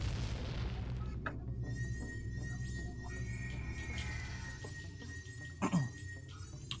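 A deep boom of a bomb exploding in the video game Majora's Mask, a low rumbling burst under layered game music with a sustained tone and a second thump near the end.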